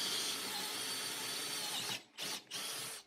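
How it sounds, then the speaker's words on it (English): A power drill bores plug-weld holes in a 1983 Harley-Davidson Sportster frame during a weld-on hardtail installation: a loud, steady whine for about two seconds, then two short bursts. "I'm going to drill for plug welds here, rosette welds."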